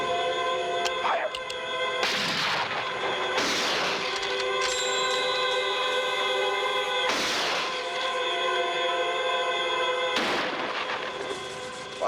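Rifles fire at a firing range in a 1973 film scene, four loud, sharp shots spaced a few seconds apart over a steady sustained tonal background.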